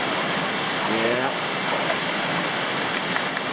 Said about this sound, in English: I'm gonna stand under the waterfall